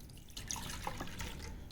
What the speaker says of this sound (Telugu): ఈ వాటర్ని ఇట్లాగా ఒక గిన్నెలో తీసేస్తున్నానండి